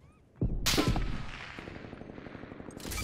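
Artillery bombardment in Call of Duty Black Ops Cold War lands as a sudden heavy blast that rolls into sustained crackling, rumbling explosion noise, with another impact near the end.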